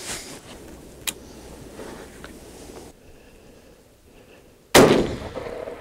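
A single rifle shot at a white-tailed buck during a snowstorm hunt rings out sharp and loud near the end after a quiet stretch, with faint outdoor background before it.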